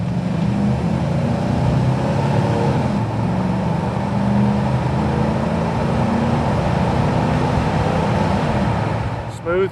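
A 1994 Chevrolet C1500 pickup with a 5.7 engine, low-mileage, drives along with a steady low engine drone and road noise inside the cab, while someone talks over it.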